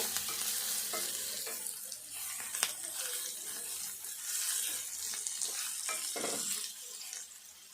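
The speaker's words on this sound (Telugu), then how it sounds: "ఈ ఉల్లిపాయ ముక్కలు అన్నీ కూడా కొంచెం మంచిగా దగ్గర ఫ్రై కావాలి" A tamarind, onion and green chilli mixture fries in a pan, a steady close sizzle with scattered stirring scrapes and clicks running throughout, no voices.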